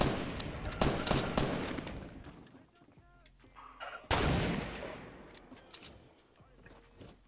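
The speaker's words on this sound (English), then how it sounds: "Okay, we're getting shot from behind." Rapid bursts of gunfire in a Fortnite squad match, loud volleys clustered in two heavy flurries separated by a quieter gap, with a few scattered shots in between.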